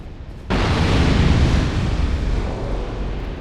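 An explosive barrel in Dark Souls II blows up with a sudden loud blast, then a long rumbling roar that slowly fades.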